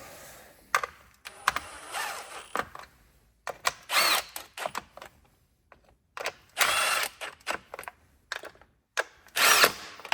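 Bursts from a power tool running down valve cover bolts on a 2010 Ford Focus, close and loud, in short repeated whirs separated by quiet pauses.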